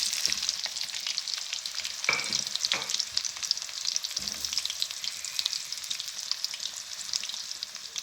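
Finely chopped large potatoes fry with golden garlic in a pan, a steady loud sizzle with a few scraping stirs and clinks near the start, no talking.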